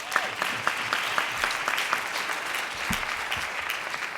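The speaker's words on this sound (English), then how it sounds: "Give her a round of applause." A crowd claps steadily in sustained applause at an education conference, the dense patter of many hands filling a large room.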